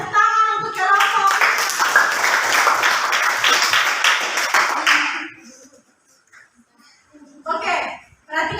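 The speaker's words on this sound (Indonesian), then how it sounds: "Kita kasih tepuk tangan untuk kelompok" A classroom of students claps for a group presentation, a loud burst of many hands lasting about five seconds before it dies away and a few voices speak.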